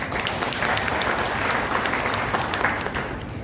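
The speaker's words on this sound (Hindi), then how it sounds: "एक बार जोरदार तालियां मैं चाहूंगा" Audience applause at a business seminar, a dense, even burst of many hands clapping close and fairly loud through the whole stretch, with no talk.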